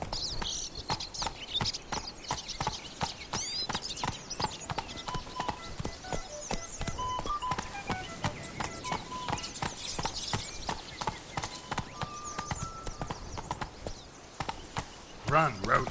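Roach the horse galloping in Witcher 3, a rapid, continuous clip-clop of hooves running the whole time under a voice and game sounds.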